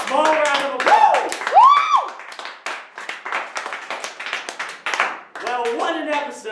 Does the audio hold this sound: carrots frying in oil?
no